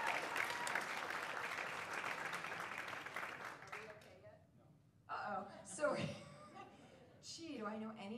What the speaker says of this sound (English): you want to clap? Go ahead.